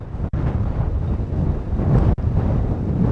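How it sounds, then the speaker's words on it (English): Strong wind outdoors in Montrose buffets the microphone with a loud, gusty low rumble, broken by two brief dropouts, and no one speaks. "I didn't know it was going to be this windy out today."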